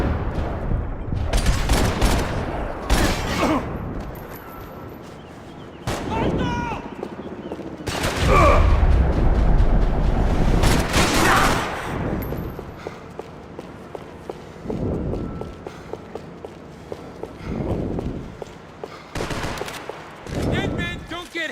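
Rapid bursts of video game gunfire crackle in loud clusters, mixed with footsteps and running, while players talk over the action.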